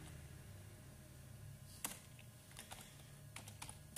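Typing on a computer keyboard to enter a website search: quiet scattered keystrokes, a few sharp clicks spread over several seconds against a low background hum, with no talking.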